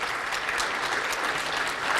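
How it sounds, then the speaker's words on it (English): Audience applause fills a conference hall after a security talk on Bluetooth Smart, a steady dense wash of clapping that holds through the whole stretch with no voices over it. "Yeah, applause for them."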